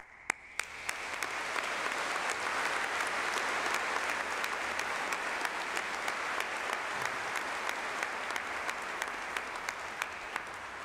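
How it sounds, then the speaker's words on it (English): An audience at a University of Birmingham ceremony breaks into sustained applause, dense clapping that builds quickly and holds steady for about ten seconds, heard from nearby. "I'd like you to join me in an applause to thank them."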